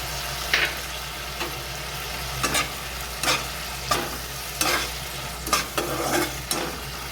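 Vegetables stir-frying with soy sauce and tomato sauce in a pan, a steady sizzle broken by a string of sharp scraping stirs roughly every second.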